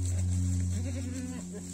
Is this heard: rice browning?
no